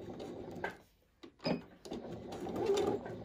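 A sewing machine stitches a tote bag seam with the presser foot about 7 mm from the edge. It runs in short whirring bursts separated by brief pauses, then settles into a longer steady run, close by with no talking.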